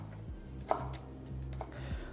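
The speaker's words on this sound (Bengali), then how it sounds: "আর ক্যাপসিকামটা কাটা হয়ে গেলে আমি এখানে একটা টমেটোও কেটে নিচ্ছি" A knife cutting capsicum and tomato on a board, with a few soft, widely spaced chops that stay quiet throughout.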